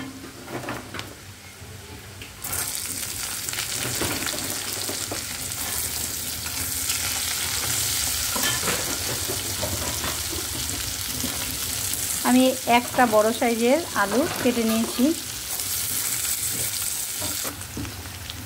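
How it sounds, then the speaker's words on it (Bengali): Onion and potato frying in a pan give off a loud, steady sizzle with scraping stirs throughout, and someone speaks briefly over the cooking noise. "আলুটাকে ভাজা ভাজা মতন করে নিলাম, লাল লাল করে।"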